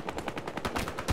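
Rapid automatic gunfire in the video game Battlefield Hardline, a quick burst of about a dozen sharp shots in steady rhythm, moderately loud and close.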